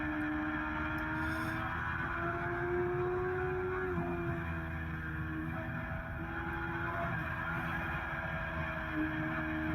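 Kawasaki ZX-6R (ZX636) track bike running hard at a trackday on a race track, steady loud engine drone with pitch steps near four and nine seconds as gears shift, continuous with no talk.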